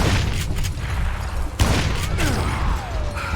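Gunfire in the Western shooter Call of Juarez: Gunslinger, a sustained burst of loud shots with a sharp crack near the middle, over a dense game soundscape and whooshing effects.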